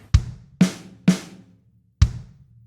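Four sharp snare drum hits, sharp and percussive, with uneven spacing and a brief pause before the last; no voices.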